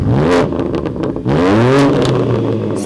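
A BMW M4 Competition fitted with a Dahler exhaust and valve controller, blipped twice with rising, raspy engine swells, the second rev longer and louder, recorded up close with no talking.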